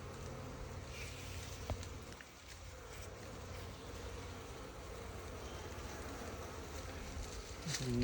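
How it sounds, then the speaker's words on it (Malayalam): Honey bees drone around a hive filled with coffee-blossom honey, a continuous close buzzing hum with faint clicks and a brief lull partway through. "ഇങ്ങനെ തൊട്ട് കൊടുത്ത ഈച്ചകൾ പതുക്കെ ഇറങ്ങി."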